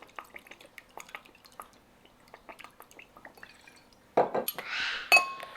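Fish sauce poured into a container of ice-cold water with ice cubes for meatball mixture, soft clinks and drips followed by a brief louder splash and gurgle at the end, close and quiet.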